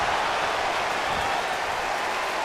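Crowd cheering in a wrestling video game, a steady broadband roar of arena noise that holds constant without a break.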